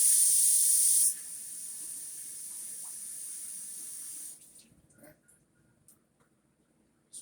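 Asparagus spears rinsed under a running kitchen sink tap, a loud steady hiss of water for about four seconds before it shuts off, leaving faint handling clatter.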